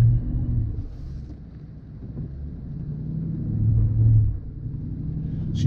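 A Range Rover Sport working through deep sand off road with its tires spinning, heard from inside as a continuous low rumble that swells and eases, overlaid with wind-like noise.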